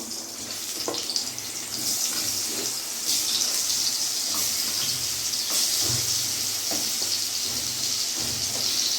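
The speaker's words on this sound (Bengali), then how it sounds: "এদিকে কড়াই আমার গরম হয়ে গেছে, আমি পটলগুলো ছেড়ে দেবো।" Pointed gourd and potato pieces, rubbed with salt and turmeric, fry in a hot wok with a steady, dense sizzle and hiss. Occasional soft stirring clinks come through, and no one speaks.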